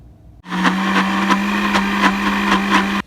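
A blender runs continuously for about two and a half seconds, grinding sesame seeds with olive oil into tahini paste. It gives a loud, close, steady whirring drone with a regular pulsing rhythm, then cuts off abruptly.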